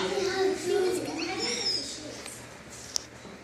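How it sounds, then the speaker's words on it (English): A pet bird kept at an animal show calls with high chirps and whistles over a steady background, with voices talking nearby and one sharp click near the end. "We'll try to get the bird a little quiet."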